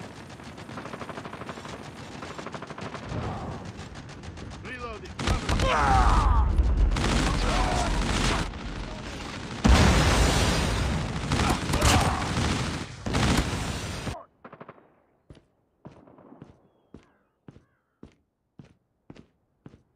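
Call of Duty gunfire crackles in loud bursts and rapid volleys over a dense game mix with voiced callouts, then thins to a string of sharp, evenly spaced single shots near the end.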